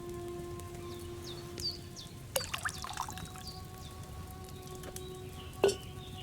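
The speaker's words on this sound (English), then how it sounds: "So, what did you pour in there? Wine, of course." Wine poured into a cauldron in the game Knight Hood: a soft, steady trickling pour over a constant background hum, with a few brief clinks and splashes, no talking.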